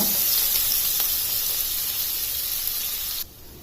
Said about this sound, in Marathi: मी आता याला थोडस तेलामध्ये फ्राय करून घेते